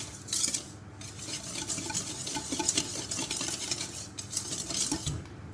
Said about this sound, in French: Le sucre. On va fouetter un peu pour mélanger nos deux aliments.